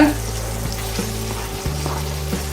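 Red onion fries in rendered smoked bacon fat, hissing and sizzling up close, with occasional scrapes and stirs in the pan.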